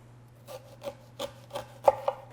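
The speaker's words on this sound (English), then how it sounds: "I'm just gonna cut them into quarters, just cutting around the core" Knife cutting pears into quarters around the core, a handful of soft separate slicing and rubbing strokes up close against a faint steady hum.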